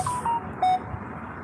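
A few short electronic message notification beeps in quick succession, clear and close, then quiet room tone.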